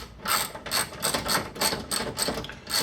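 A ratchet with a Mastercraft socket clicks in quick, close bursts, with about six short ratcheting strokes in a row.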